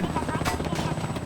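Helicopter in the Half-Life 2 video game on Xbox 360, a loud close rotor drone with rapid chopping, while someone speaks excitedly over it.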